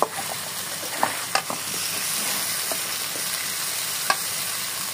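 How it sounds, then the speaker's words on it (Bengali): Jackfruit curry with spices is stirred in a pan, giving a steady close sizzle broken by a few clicks and scrapes of the spoon. No voices. "সব উপকরণ খুব ভালো মতো নাড়িয়ে নিতে হবে যেন মশলাটা এঁচড়ের গায়ে লেগে যায়"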